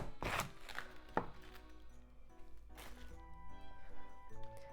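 A knife chops cabbage into bite-sized pieces for Japanese quick pickles, a few sharp close thunks against a cutting board, spaced irregularly over a quiet kitchen background.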